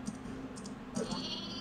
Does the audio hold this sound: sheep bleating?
yes